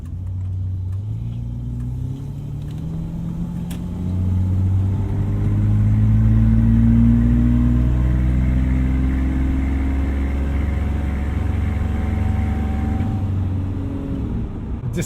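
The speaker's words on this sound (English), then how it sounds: "Despite the 70s automatic transmission we've got here, pretty impressive throttle response" A 1970s Jaguar with an automatic transmission accelerates, its engine rising in a smooth, close, steady drone that swells mid-run and eases back toward the end.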